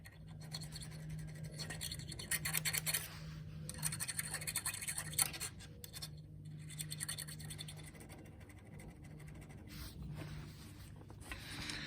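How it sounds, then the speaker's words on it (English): A brush scrubs rust off Harley Davidson suspension parts, making close, quiet scratchy strokes in irregular bursts with short pauses between them. "a combination of just WD-40, brushing it, bit of filing, cleaning will get you to where you need to go."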